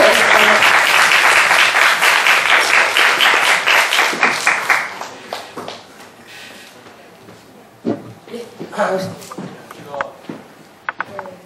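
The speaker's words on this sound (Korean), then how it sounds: "박수로." An audience at a university student mini-stage event breaks into loud, dense applause that fades after about five seconds, followed by scattered claps, shuffling and murmured voices.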